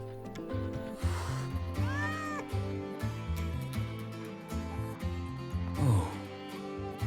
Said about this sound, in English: It doesn't seem to be a cat registered with the academy.